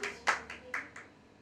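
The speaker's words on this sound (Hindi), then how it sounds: "जोरदार तालियां हो जाए वंश के लिए" A small studio audience at a singing show gives a handful of scattered hand claps, about five sharp claps in quick succession that trail off within a second.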